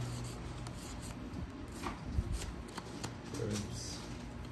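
Close, quiet rustling and riffling of playing cards being handled and shuffled during a game of tongits, with light papery flicks and taps.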